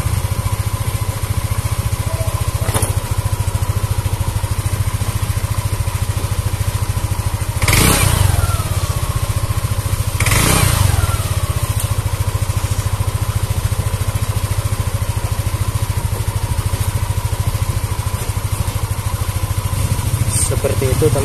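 A Yamaha Aerox scooter engine runs steadily with a close, continuous hum after its second stand is lowered, and two short louder surges or clunks break in partway through.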